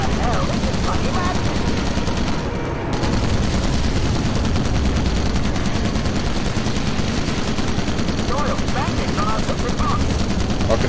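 Sustained machine-gun fire from an aircraft tail gun in Call of Duty: United Offensive rattles loudly and almost without break, with a player's voice talking over it.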